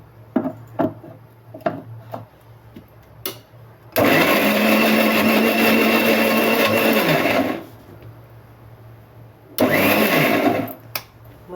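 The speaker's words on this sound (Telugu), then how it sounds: "ఇప్పుడు దీన్ని మనం మిక్సీ పట్టుకుందామండి." A kitchen mixer grinder blends ridge gourd chutney (beerakaya pachadi). It roars loudly and steadily for about three and a half seconds, goes quiet with a few small clicks, then runs again in a shorter burst. No one speaks.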